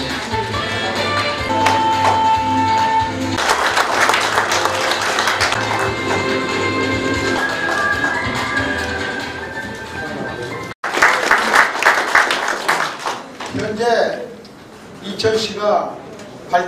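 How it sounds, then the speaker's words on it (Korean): Crowd applause at the opening ceremony of a mayoral candidate's campaign office, a dense clapping roar blended with music and voices, breaking off briefly before resuming in uneven bursts. "큰 박수 부탁드리겠습니다"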